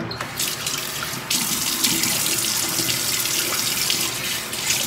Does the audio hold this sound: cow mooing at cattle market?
no